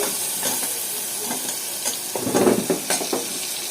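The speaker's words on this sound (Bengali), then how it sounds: "এই যে কিছু পেঁয়াজ দিয়ে দিলাম এগুলো এখন একটু তেলের মধ্যে নাড়াচাড়া করে নিতে হবে" Sliced onions sizzle and hiss in hot oil with bay leaves while being stirred. A spoon scrapes and clatters now and then, and the scraping grows louder near the middle.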